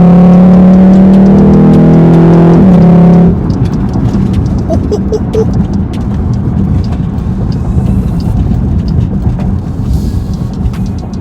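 A V6 2020 Jeep Grand Cherokee fitted with an MMX throttle body and K&N cold air intake downshifts. A loud, droning engine tone falls in pitch over about three seconds, then gives way to a lower, steady road rumble.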